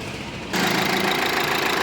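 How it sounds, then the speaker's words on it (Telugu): A 2016 Nissan Terrano engine turns over and catches, then settles into a loud, steady idle with a dense rumble close by, no speech over it. "ఒకసారి ఇంజిన్ స్టార్ట్ చేసి చూపిస్తాను"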